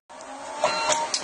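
Mitsubishi CP-K60DW photo printer printing and spooling, a steady motorized hum with a few brief clicks and squeaks on top, fairly quiet and close.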